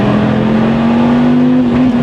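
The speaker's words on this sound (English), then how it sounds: "Let's rev it up a little." A car engine held at high revs up to the rev limiter, a loud steady droning note that rises slightly and stays close and constant for the whole stretch.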